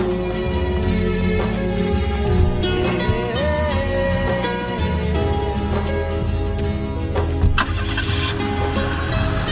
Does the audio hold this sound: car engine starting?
yes